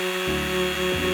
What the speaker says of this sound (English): I thought I would just test a small area first using my Dremel.